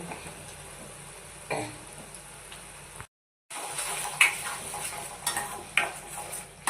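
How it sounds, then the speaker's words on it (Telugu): Spoon stirring turmeric, chili and coriander powder into an egg curry in a pan, with a steady scraping and soft sizzle, occasional clinks of utensil on metal and a brief pause midway. "ఇవన్నీ కలిపి బాగా మిక్స్ చేసుకోవాలి"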